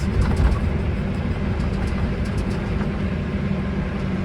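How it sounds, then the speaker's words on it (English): A tractor engine runs hard during seeding, giving a loud, steady low rumble with rattling, like machinery under heavy strain, continuous and close. "Tractor's gonna fly apart here."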